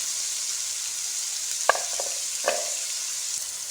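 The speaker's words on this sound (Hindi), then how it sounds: "प्याज हम अब फ्राई करेंगे और साथ ही इसमें हम लहसुन शामिल कर देंगे।" Steady sizzling of onions and garlic frying in a pan for tandoori chicken gravy, with a couple of brief utensil scrapes as the food is stirred.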